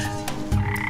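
A green frog gives a short, close croak: a single low, throaty burst that lasts about a second, heard on its own in a comedy film scene.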